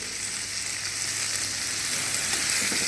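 Vegetables and diamond-cut beans fry in a paella pan, giving a steady, even sizzle that holds without break for the whole stretch, close and moderately loud, with no talking.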